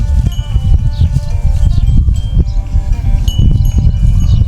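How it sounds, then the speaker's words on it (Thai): Many cow bells clank and jingle continuously as grazing cattle move about nearby, an irregular metallic clatter over low rustling. "ใส่กระดิ่งให้ทุกตัวเลย"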